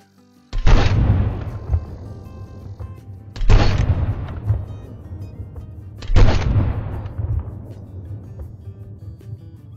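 Three sharp, loud M1 rifle shots in a hunting game, spaced roughly three seconds apart, each cracking out and then ringing into a decaying echo over a low steady hum.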